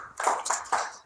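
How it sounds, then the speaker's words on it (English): A group of children and adults clap at a kids' leadership class, a short quiet patter of hands in three small bursts with no voices. "Let's clap for him."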